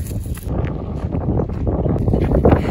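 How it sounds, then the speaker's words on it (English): Strong wind at Echuca buffets the microphone in loud, uneven gusts for a few seconds. "It's literally so windy."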